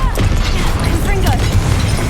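A Confringo spell blast in Hogwarts Legacy bursts loud and close, a dense crashing boom with rumbling debris and clattering impacts filling the short stretch, while other game effects churn under it.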